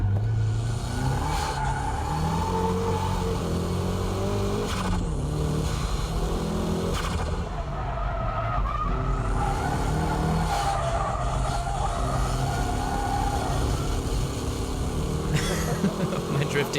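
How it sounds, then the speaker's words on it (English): A car drifts with tires skidding and its engine revving hard, a loud steady roar of engine and tire noise throughout, with a voice talking over it. "My drifting is a bit wild,"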